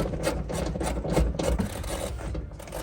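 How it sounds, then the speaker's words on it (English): Rapid rasping, ratcheting tool work on bolts of a damaged 2020 Toyota 86, a steady close buzzing chatter with repeated short pulses. "Just trying to get the bolts out."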